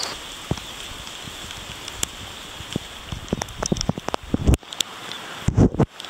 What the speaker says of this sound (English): There's so much rain.